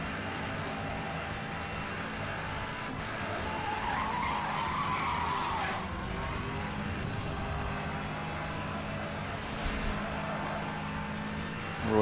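Car tires skid and squeal in Need for Speed: Hot Pursuit Remastered, a sustained screech over a steady engine roar that swells in the middle and holds for several seconds.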